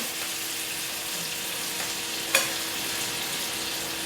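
A pancake batter with chocolate and milk fries in a home kitchen pan, giving a steady close sizzle with one sharp clink partway through.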